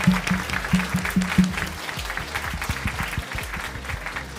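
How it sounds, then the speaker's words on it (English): Audience applause at a university production Q&A, moderate and fairly close, with a few distinct claps standing out early before the clapping thins toward the end. "Can we give them another round of applause?"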